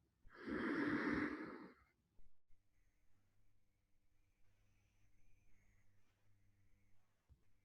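One long, deep breath drawn during Tummo meditation, loud and close for about a second and a half. Quiet room tone follows.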